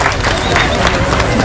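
Audience at a traditional cultural event and food festival applauding young performers, a loud dense crowd clapping with hubbub, close and continuous.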